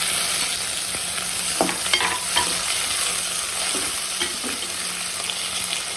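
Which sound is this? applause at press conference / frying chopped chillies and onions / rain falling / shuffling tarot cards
frying chopped chillies and onions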